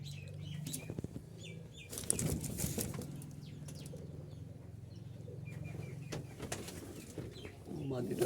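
Jalali pigeons in their loft, with bursts of wing flapping and faint cooing under a steady low hum, sparse chirps in between and a louder flurry near the end.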